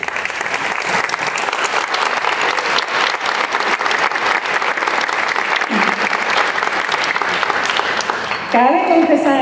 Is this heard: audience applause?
yes